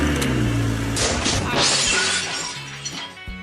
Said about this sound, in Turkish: Kaza yaptım ve kaportam kırıldı.